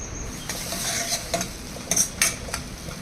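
Raw mango frying in a pan for Ugadi pulihora, giving a soft steady sizzle close by with a few spoon scrapes and stirring knocks, and no one talking.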